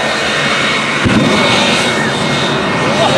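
A '57 Chevy truck fitted with a jet engine producing 6,500 pounds of thrust with afterburner roars steadily and loudly at an airfield event, a dense, unbroken blast of engine noise throughout.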